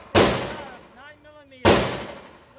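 A 9mm handgun fires two loud, sharp shots about a second and a half apart, each ringing off briefly. A voice speaks between the shots.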